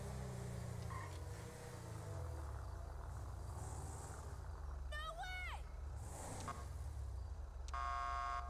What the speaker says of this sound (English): Apparently L's my honk button.